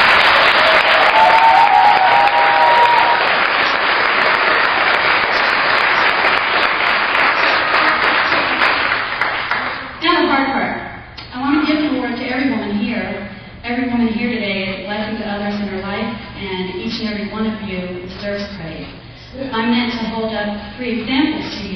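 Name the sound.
audience applause for Women of the Year nominees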